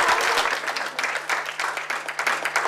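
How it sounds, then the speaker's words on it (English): Audience applause, a dense patter of many hands clapping at moderate distance, rising and falling slightly throughout. "Round of applause for the human."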